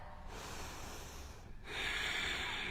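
A yoga student breathes deeply during a flow: two long, close, airy breaths through the nose, the second stronger and hissier, with no talking.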